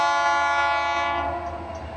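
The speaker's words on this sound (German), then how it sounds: "In Vancouver startet täglich allerdings auch ein Touristenzug, der Whistler Mountaineer." Whistler Mountaineer, a diesel tourist train in white and blue running from Vancouver via Squamish to Whistler, sounds a long, loud sustained horn chord that holds steady near the camera and fades slightly toward the end, with no talk.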